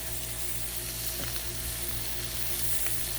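Sausage sizzles on a Blackstone griddle set to medium low, giving a steady, even frying hiss with a couple of faint clicks and no talk.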